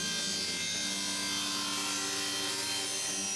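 Steady rasping strokes of a pole saw cutting wood to length, continuous and close, with no talking.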